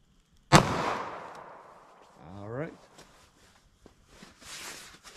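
A .380 ACP Speer Gold Dot round fired into ballistics gel gives a single sharp, loud gunshot with a ringing decay. Quieter handling noises and faint clatter follow.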